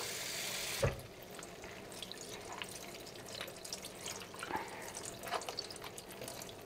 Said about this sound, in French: Et il faut bien les égoutter pour ne pas amener trop d'eau.